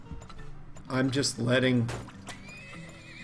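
Wagon horses in the Turmoil video game neigh loudly with clip-clopping hooves, the whinnies rising over a short stretch while someone talks throughout.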